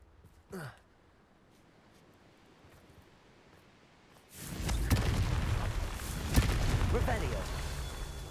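A Confringo fire spell explosion in Hogwarts Legacy, a short whoosh early on, then a loud burst that erupts into a sustained roaring, crackling blaze after a quieter stretch.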